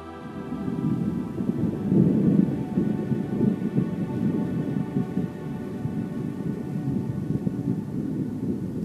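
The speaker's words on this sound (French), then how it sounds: "les premiers grondements du tonnerre se font entendre" Deep thunder rumbles continuously, a low rolling growl that swells slightly and then settles without fading away.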